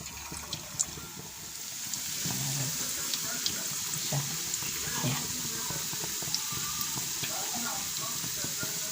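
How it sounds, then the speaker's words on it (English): Spring rolls frying in very hot oil give a continuous hissing sizzle with scattered small crackles and pops, steady throughout, with a voice heard faintly underneath. "my oil has been heating up and it's very hot, so you put your spring rolls in carefully."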